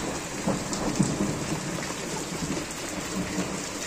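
Heavy rain pours steadily in a sudden storm that broke after fine weather, with low thunder rumbling beneath the constant hiss, close and loud throughout without any talk.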